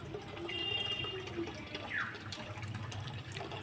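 Water starting to run from a household tap in a home after a supply outage, a faint steady gush and splash heard close with a few light clinks.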